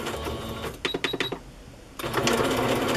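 A sewing machine stitches vintage fabric in quick rattling bursts, a short pause, then a louder continuous whir.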